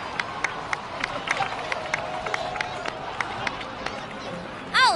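A crowd claps and cheers in a steady wash of applause with sharp individual claps, ending on a bright rising chime, in the video game Genshin Impact.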